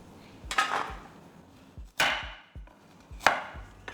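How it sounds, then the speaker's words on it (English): A knife chops French beans on a cutting board, giving three sharp, loud knocks with a few softer taps between them, close up and with no talking. "Cut the top of the stems off the French beans. Then, cut them in half"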